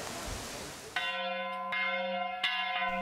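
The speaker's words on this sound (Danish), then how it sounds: "Klokkeringningen markerer, at nu er arbejdsdagen slut for de mange frivillige børn og voksne" A church bell at the Hjerl Hede open-air museum rings to mark the end of the workday. Three clear, resonant strikes are spaced under a second apart, each leaving a long humming tone that carries over faint background noise.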